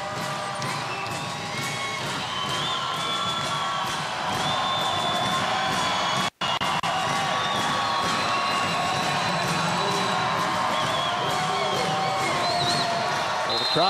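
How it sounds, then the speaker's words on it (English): A crowd in a men's college volleyball arena, Hawaii against Penn State, cheers and shouts in a sustained roar, with whoops and sharp bursts rising above the din and a brief cut midway. "the crowd starting to make some noise, sensing that Hawaii is on the verge of taking a 2-1 advantage"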